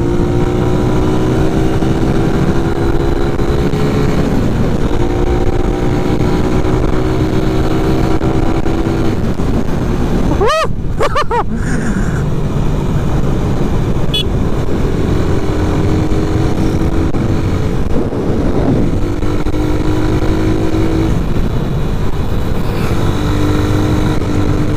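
A 2021 Suzuki Raider 150 carbureted motorcycle engine drones steadily on a test ride, with gear shifts and rising revs, wind rush throughout, and a brief clatter midway.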